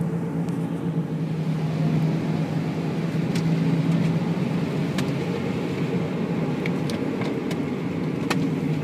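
A car drives along a road, heard from inside as a steady, loud engine and road drone with a low hum, occasional faint ticks and clicks on top, and no talk.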